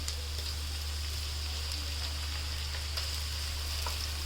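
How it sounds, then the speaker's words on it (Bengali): Ginger and garlic paste sizzling in hot oil with softened onions in a pan, a steady close frying hiss with small crackles scattered through, under a constant low hum. "এখন আমি আদা রসুন দিয়ে দিলাম"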